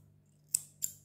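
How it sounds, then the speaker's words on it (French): Scissors snipping Furry Shimmer crochet yarn, two crisp close cuts about a third of a second apart over a faint steady hum. "Là, on va couper notre fil."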